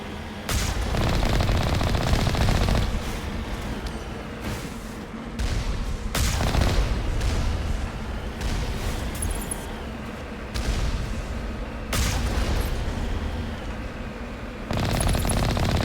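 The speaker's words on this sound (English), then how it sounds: "Looks like we're gonna have some turrets to deal with." Sustained turret gunfire in the video game Mass Effect Legendary Edition, loud automatic bursts roaring almost continuously with brief gaps between volleys, mixed with booming impacts.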